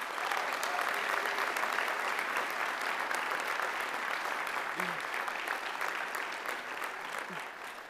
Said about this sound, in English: Please join me in a round of applause for all of our amazing engineers.